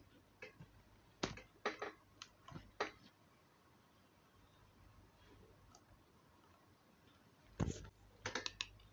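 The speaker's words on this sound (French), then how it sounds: "mon clavier dérange un peu, excusez-moi" Scattered bursts of keyboard clicks, several quick keystrokes in short clusters separated by quiet stretches, close and fairly soft.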